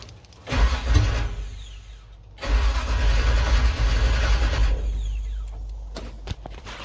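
A 1964 Chevy C10's 355 V8 running with no exhaust fitted on its first start: a short raw burst fires and dies, then it catches again and runs loud and rough for several seconds before cutting out.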